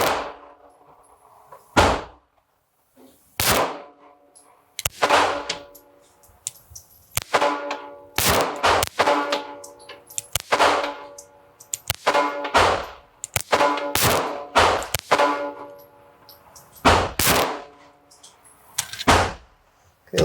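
Roughly a dozen sharp gunshots from an Astra Constable II .380 pistol ring out one at a time at an indoor range, each a loud crack with a brief echoing tail, spaced irregularly with short pauses between them.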